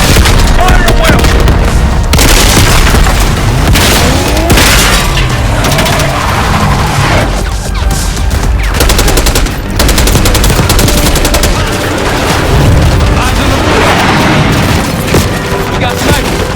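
Battle gunfire in the video game Call of Duty: Black Ops 6: dense, loud bursts of rifle and machine-gun fire mixed with booming explosions, continuous throughout with voices shouting over it.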